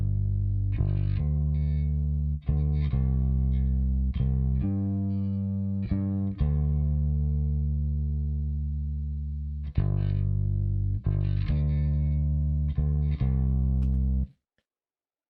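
Processed bass guitar with frequency splitting and distortion: sustained, thick, loud notes with gritty upper harmonics, playing a slow line alone before cutting off abruptly at the end.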